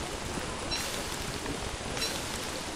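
Steady rain pours during monsoon season in the survival video game Don't Starve Shipwrecked, a dense, even wash of patter filling the whole moment with no speech.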